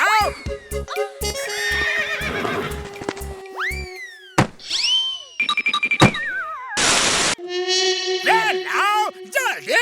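Cartoon horse neighs and whinnies, with clip-clop hoofbeats and thunks, loud and up close in a busy animated scene, mixed with other cartoon sound effects.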